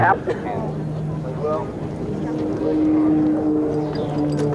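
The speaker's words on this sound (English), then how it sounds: "Now, both engines will be running full until he gets near the bottom of the dive" A steady, loud drone of a twin-engine Shrike Aero Commander at full power during an air show dive, sustained tonal hum rising slightly midway, while a voice talks over it.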